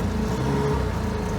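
A Chrysler outboard motor pushes an inflatable boat across Folsom Lake, giving a steady, loud, close engine drone with a continuous low hum and no talk over it.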